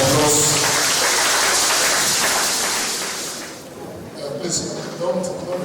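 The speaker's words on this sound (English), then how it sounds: "Can we give him a round of applause?" A lecture-hall audience at a Founder's Day lecture claps for the keynote speaker, a broad wash of applause that fades after about three seconds before a voice begins talking.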